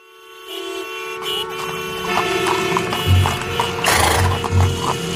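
A horse's hooves clip-clop steadily in the near distance, with a few louder thuds, under a whine of electronic hum and a faint whinny, no talking.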